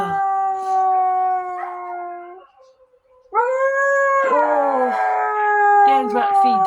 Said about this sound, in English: Dan's about to feed dogs, and they know it.